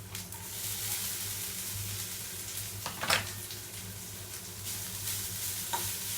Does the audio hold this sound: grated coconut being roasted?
yes